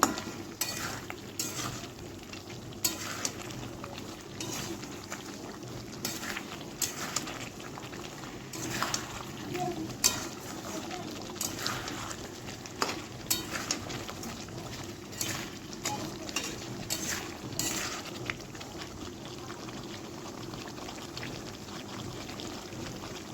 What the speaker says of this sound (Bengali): এবারে ভালো করে নেড়ে চেড়ে চিকেনটাকে কষিয়ে নেব।